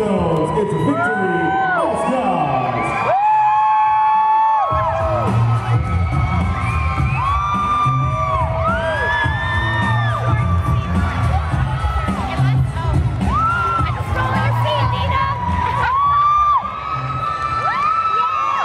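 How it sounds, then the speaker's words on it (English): A crowd at a competition cheers loudly and continuously, with high whoops, shouts and screams rising above the roar of many voices throughout. "make some noise for the Moonstones"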